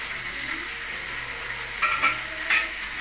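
Garlic sizzles steadily in a hot pan as it fries, a continuous hiss with a few brief clinks of a utensil or stirring near the end, close up and with no talking.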